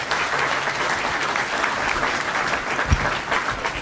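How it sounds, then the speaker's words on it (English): Sustained audience applause from a seated crowd after a panel discussion, steady dense clapping filling the whole moment with no voices over it. "Let's give them another round of applause."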